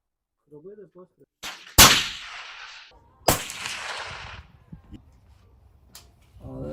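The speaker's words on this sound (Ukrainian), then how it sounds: "Зараз наш конструктор і дизайнер Олександр зробить декілька пострілів з цього тепловізійного приціла, щоб ми зрозуміли, як він себе веде на 308 калібрі." Two loud rifle shots in .308 caliber, fired through a Patriot-2 thermal scope during field testing, crack sharply about a second and a half apart, each with a lingering outdoor echo, after brief faint voices.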